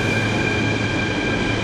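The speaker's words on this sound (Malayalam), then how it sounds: "അങ്ങനെ മെട്രോയുടെ ഡോർ അടഞ്ഞ് വണ്ടി പതുക്കെ നീങ്ങിക്കൊണ്ട്" Mumbai metro train on the Ghatkopar–Andheri line pulling away from Sakinaka station, a steady loud rumble with a droning hum and faint high tonal whine, continuous and close throughout.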